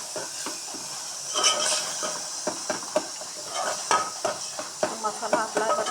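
Chicken gravy masala sizzling in a pan, with a steady hiss and scattered stirring scrapes and bubbling pops close by, no voices.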